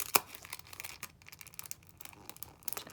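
An old taped stamp album item from an estate sale is slowly teased apart, giving faint crinkling and light tearing with one sharper snap near the start and soft papery rustles after.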